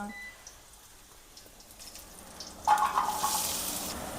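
Chopped onion dropped into hot oil with cumin seeds in a pan while making mutton fry, starting as a quiet simmer and then breaking into a louder, broad hiss of sizzling partway through, close by with no talking.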